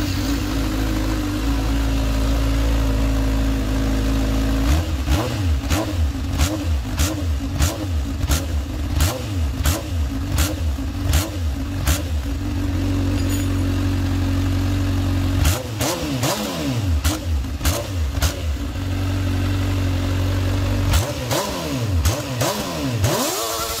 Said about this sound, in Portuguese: Agora vamos ver se a gente consegue até tirar essa latinha aqui fora acelerando.